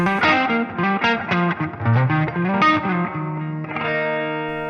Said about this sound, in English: Neck pickups on Gibsons can be a little bit on the woofy side.